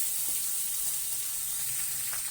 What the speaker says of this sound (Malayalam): അപ്പോൾ തേങ്ങ അങ്ങനെ മൊരിയുന്നുണ്ട്